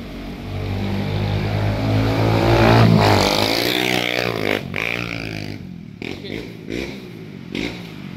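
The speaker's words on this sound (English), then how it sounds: "Why can't you just sit on that motorcycle? It's so loud." A loud motorcycle running nearby, with a deep engine rumble that swells and shifts in pitch like revving, then fades into broken, uneven bursts toward the end.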